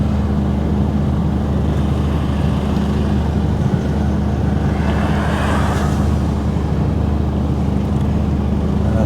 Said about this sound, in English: Traffic coming the other way now